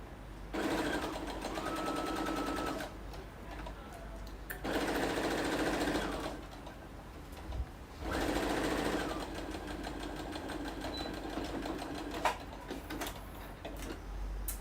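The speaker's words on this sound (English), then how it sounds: "Okay, so we're just gonna sew this together." A sewing machine stitching a roll-up bag in three separate bursts of rapid, even needle whirring with short pauses between, close by, plus a few faint handling knocks.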